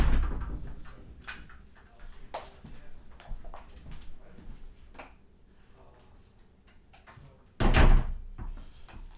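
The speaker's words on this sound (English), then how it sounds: "Shut the damn door." A door is shut, with a series of scattered knocks and rattles from handling it before a loud slam near the end, all close by in a quiet room.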